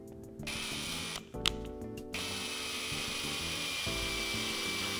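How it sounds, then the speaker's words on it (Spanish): A power drill with a threading bit whirs steadily as it cuts a thread into metal, cooled with water, its pitch dipping briefly under load, then holding a constant whine. "Vamos a poner un poco de agua para refrigerar y empezamos a taladrar despacito."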